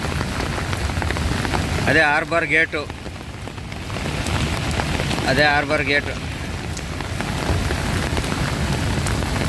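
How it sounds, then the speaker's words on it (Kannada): Steady heavy rain pours throughout, a dense roar, with a voice speaking briefly over it twice. "ಫುಲ್ಲು ಮಳೆ"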